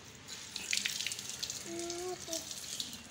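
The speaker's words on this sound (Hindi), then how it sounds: "अच्छे बच्चे खाना खाने से पहले हाथ धोते हैं" Water running from a tap as a child's hands are washed before a meal in a village home, a faint steady splash with brief tonal squeaks partway through.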